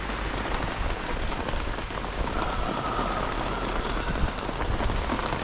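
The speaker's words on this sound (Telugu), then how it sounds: "వెళ్ళి రిటర్న్ అయ్యేటప్పుడు ఫుల్ వర్షం పడ్డది" Heavy rain pours steadily on surfaces at Top Station viewpoint in Munnar, Kerala, a dense, even hiss that holds at one level with no voices.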